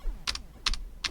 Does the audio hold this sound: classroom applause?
no